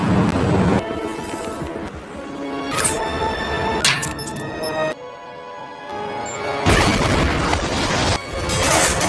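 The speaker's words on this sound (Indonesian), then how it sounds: "akibat ledakan barusan" Loud crashing blasts with debris and shattering noise, a brief lull, then another heavy roaring burst of destruction as an explosion knocks out an aircraft propeller.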